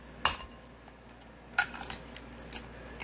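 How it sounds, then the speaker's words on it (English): Eggs cracked into a bowl for keto southwest eggs Benedict, two sharp cracking taps about a second apart followed by faint clinks, close and quiet in a still kitchen. "But right now I'm just cracking the eggs."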